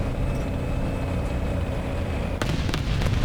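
A tank cannon shot in War Thunder lands on an M48 Patton as a sudden sharp blast, followed by a few quick crackling bursts, all over the steady rumble of the engine.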